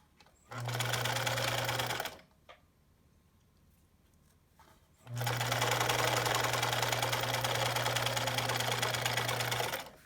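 Close and loud, a sewing machine chain pieces quilt quarter square triangles in two long steady runs of stitching, split by a quiet pause of a few seconds.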